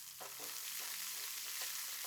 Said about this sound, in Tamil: இதை சேர்த்து நல்லா வதக்கி விட்டு